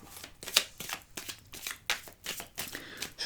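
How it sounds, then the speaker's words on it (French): Tarot cards being shuffled and drawn, a close, soft series of rapid riffling and flicking bursts in an irregular rhythm, heard alone. "Nous allons tirer la carte complémentaire du tarot."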